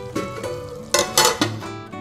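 A metal lid clanks onto a pot of potato and onion curry, giving a few sharp clatters and one ringing knock, with scraping utensil sounds in between.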